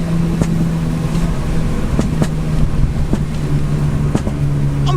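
A Stage 2 tuned Audi S3 engine holds a steady, droning idle-like rumble, broken by four sharp, crackling exhaust pops spaced about a second apart, loud and close.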